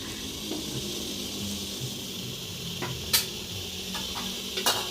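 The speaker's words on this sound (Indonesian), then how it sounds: "Lalu kemudian kita kukus ya teman-teman. Ini dandang udah saya panaskan." A dandang steamer pot heated for steaming kue mangkok gives a steady, soft steam hiss with a few sharp clicks and light metallic taps near the end.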